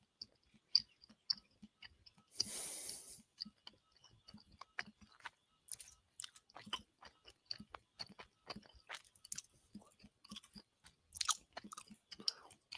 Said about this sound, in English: I'm listening to me chewing gum, and I'm wondering who's chewing gum.